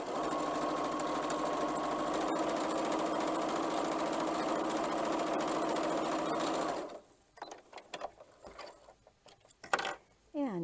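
A sewing machine runs steadily for about seven seconds, stitching a 1.5 inch quilt strip with a 1/4 inch seam for a scrappy block, then stops, leaving faint handling and fabric clicks.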